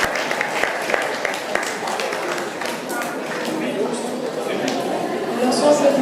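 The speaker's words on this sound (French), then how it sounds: "qu'on les applaudisse très fort pour leur investissement" Applause at a sports club awards podium as bronze medallists step forward, a crowd clapping steadily at moderate distance with voices and movement noise mixed in.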